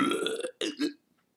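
A loud, drawn-out belch in a children's audiobook reading, delivered in two bursts by a voice performing the sound.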